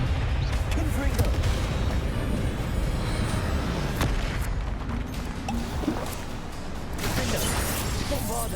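Confringo fire spell blast cast in Hogwarts Legacy, amid dense, continuous spell-combat noise with booms and crackling impacts, loud throughout with no clear isolated hit.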